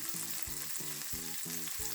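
Oyster mushrooms frying in a pan give off a steady close sizzle, broken by soft rhythmic pulses of stirring, with no voices.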